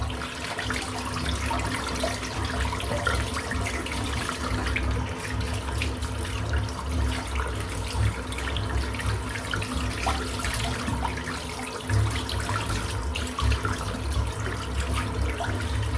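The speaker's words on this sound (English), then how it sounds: "Rinse this beast of a brush out." Tap water runs steadily to rinse a shaving brush during a wet shave, a continuous close splashing gush with slight shifts as the brush moves under the stream.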